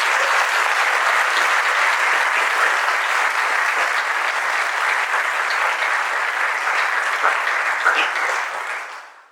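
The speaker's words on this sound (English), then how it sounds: "can we have a round of applause for our panelists?" Sustained, loud applause from a keynote audience fills the room for the panelists, holding evenly before fading out at the end.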